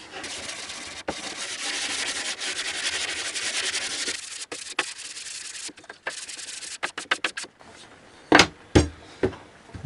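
Sandpaper rubbing back and forth over a paulownia wood shelf for a smooth finish, a steady close scratchy hiss for about four seconds, then broken into short separate strokes and a few knocks.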